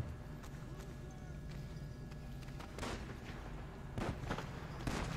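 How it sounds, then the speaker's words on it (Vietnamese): Police gunfire in GTA V, heard as a few sharp bursts at moderate distance over a steady game background, with a voice talking throughout. "nó bắn đùng đùng"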